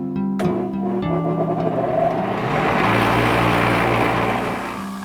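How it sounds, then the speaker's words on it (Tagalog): Improvised lapidary machine for cutting and polishing gemstones: a sharp click, then a motor starts up and settles into a steady droning hum with a buzzing, rising hiss. "Improvised man ang makina na gamit,"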